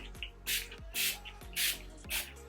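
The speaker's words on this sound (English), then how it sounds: "So I'm just gonna spray the face." Repeated short hissing sprays of facial mist, four quick pumps in an even rhythm, close and fairly soft against a quiet room.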